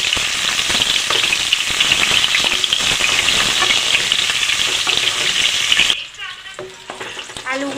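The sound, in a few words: boiled potatoes frying in hot oil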